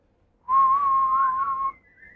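A single sustained human whistle imitating a bird, a clear steady tone held for over a second with a slight waver, close and alone against silence.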